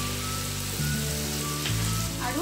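Mixed sauce poured into ginger and garlic frying in a pan for chicken 65, giving a steady continuous sizzle that shifts in tone as the liquid hits the hot oil, with no talking.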